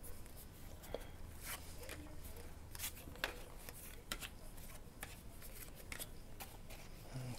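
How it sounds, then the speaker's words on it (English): A deck of tarot cards being shuffled before a five-card draw, a steady papery riffling and shuffling with soft taps throughout, fairly quiet and close, with no speech over it. "Of course, we're going to draw 5 cards,"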